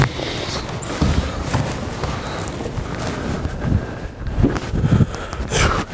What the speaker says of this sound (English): That wind is no joke.